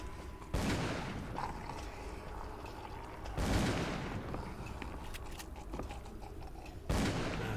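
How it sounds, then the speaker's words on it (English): Three loud, booming gunshots go off several seconds apart in the video game Call of Cthulhu: Dark Corners of the Earth, each with a long rumbling tail. "Where the gunshots are."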